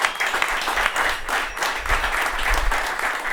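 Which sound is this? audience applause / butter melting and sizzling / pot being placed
audience applause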